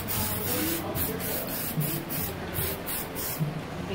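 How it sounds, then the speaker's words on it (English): Rust protection spray is applied to the rear brakes of a Toyota Hiace in a series of short hissing bursts, each a second or less, repeated at a steady pace. "spray this one also, so to protect for the rust"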